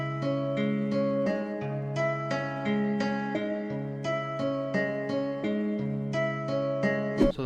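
A guitar sample processed with RC20 vinyl, reverb and EQ, lows cut heavily and highs slightly raised, plays steady repeated plucked notes over a sustained low tone, moderately quiet and alone.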